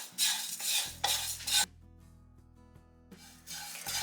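Flattened rice (aval) dry-roasting in a pan, stirred in a few scraping bursts of rustling grains and metal against metal, separated by quiet pauses with a faint steady hum.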